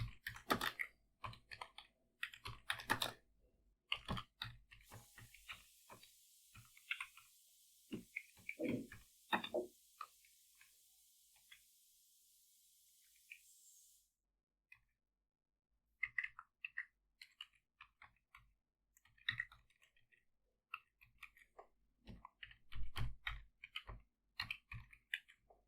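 Someone types a Git command on a computer keyboard, giving close, quiet clusters of quick key clicks in short bursts with pauses. A brief steady hiss fills the middle of the stretch.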